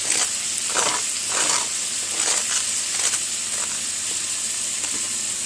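Thin-sliced Philly cheese steak meat sizzles steadily in a hot pan on medium heat, with a continuous bright hiss broken by repeated scraping stirs about every half second to second.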